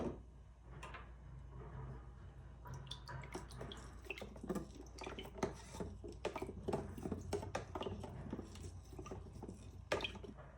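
Blue dye poured into a container of water for an El Niño demonstration, giving soft trickling and dripping splashes that keep up through the clip, close and fairly quiet, with no talking.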